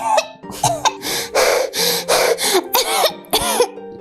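A burst of repeated coughing from a child, several harsh coughs in quick succession with brief gasps between, close and loud.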